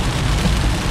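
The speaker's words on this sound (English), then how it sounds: "There's slightly heavy rain left by the storm." Slightly heavy rain falling during a Florida summer storm, a steady dense hiss of drops close by with no talk, continuous for the whole second.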